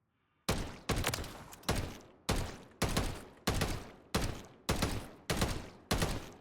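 Ten sharp Call of Duty gunshots fire at a dummy in a steady rhythm, each a loud close blast with a short decaying tail, and no talking.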